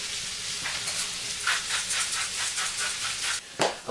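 Sliced fennel and onions sizzle steadily in a hot pan as they begin to caramelize, a continuous close frying hiss with small bursts and a brief rattle near the end, no talking.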